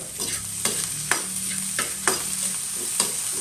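Garlic and ginger sautéing in a pan for Bicol Express, a continuous oily sizzle punctuated by regular spatula scrapes and taps roughly every half second, close and unaccompanied by talk.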